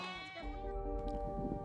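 Goats bleat in a stable set in caves beneath the rocks of Cappadocia, Turkey: a few wavering, nasal cries at close range, fairly quiet, with a faint low rumble underneath and no talking.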